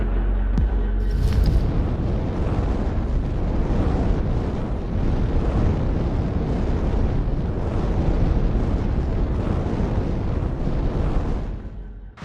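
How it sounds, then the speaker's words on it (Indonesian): A sugar refinery explosion: a massive, sustained roaring blast rumbles continuously at high volume, deep and thunderous, with no voices present. "Ledakan kilang gula."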